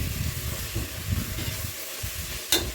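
Chopped tomatoes sauté with ginger garlic paste and onions in a pan for mutton kulambu, with a steady soft sizzle, stirring scrapes and a brief sharp clink near the end.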